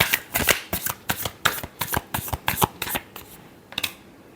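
A deck of tarot cards is shuffled up close in quick rhythmic riffles, about a dozen crisp bursts in steady succession, then a brief pause and one final flick, with no talk.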